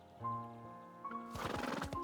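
A horse in the game Love and Deepspace gives a close, drawn-out neigh, followed by a quick, busy patter like hooves or rustling, heard at a fairly low level.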